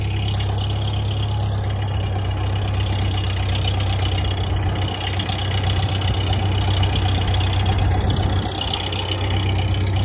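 Small gravity-fed engine machine, fuel running from a clean tank through a clean hose straight into the carburetor, idling steadily and loudly out in the woods with a constant low throbbing drone and no talk.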